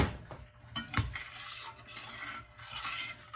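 A spoon stirring a simmering sauce in a pan, with salt and pepper added, ahead of a steak dinner. Scraping strokes and a couple of sharp knocks against the pan sound close and fairly quiet, over a low simmer, with no talking.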